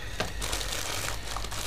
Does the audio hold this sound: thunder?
no